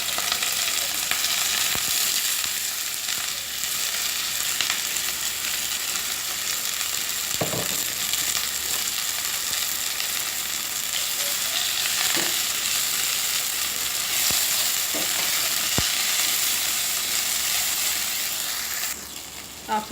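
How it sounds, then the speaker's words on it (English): Sliced onion sautés in oil in a pot for a sweet potato shepherd's pie, giving a steady close sizzle throughout with a few faint clicks of stirring and no talking. "Let it sort of saute a bit."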